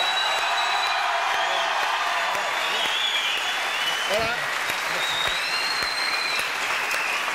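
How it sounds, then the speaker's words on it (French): Sustained, dense audience applause on a French TV variety show fills the room for Charlie and Lulu, with a few scattered cheers and a brief spoken word cutting through partway. "applaudissements pour Charlie et Lulu"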